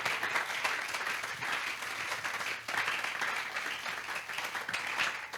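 Church congregation applauding together during a service, a steady dense wash of clapping hands that fills the whole stretch with a brief dip midway, loud and continuous.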